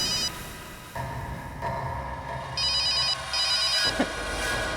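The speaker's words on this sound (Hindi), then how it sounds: "अभी 1 मिनट में फोन की रिंग बजेगी" A telephone rings in a tense TV drama scene, with two or three bursts of trilling electronic rings over a low music bed and no talking.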